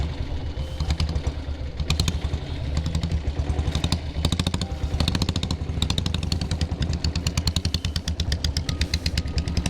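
A diesel Bullet motorcycle on a group ride has its engine running with a rapid, loud thumping chug, steady pulses throughout and heard close.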